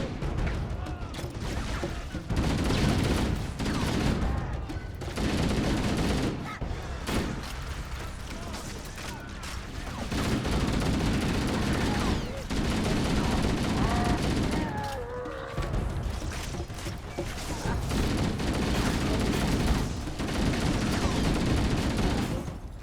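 Gunfire in a Halo battle, with bursts of shots and explosions running loudly through most of the stretch, dipping briefly in a few short lulls; some voices are faintly mixed in.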